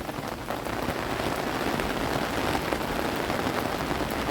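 Steady rain pours down at a farm house, a dense, even hiss of drops hitting surfaces, close and continuous with no voices.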